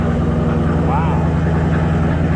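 An Indian Challenger motorcycle engine fitted with new Indian mufflers, replacing the removed tabs exhaust, idles with a steady low, throbbing drone while someone talks over it.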